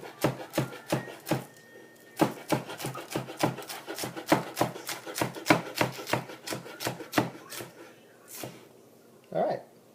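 Scallions chopped with a knife on a cutting board for pho, a fast run of sharp, close taps in steady bursts with a short pause, while a person talks over the cutting.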